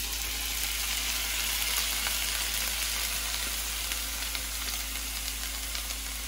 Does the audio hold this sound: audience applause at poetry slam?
no